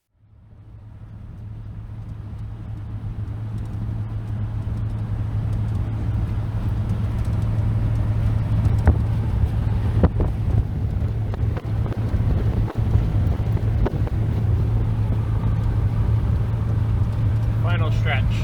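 Steady low road rumble and wind noise from a car cruising home on a country road after a rallycross event, continuous and fairly loud throughout with occasional bumps and brief voices underneath.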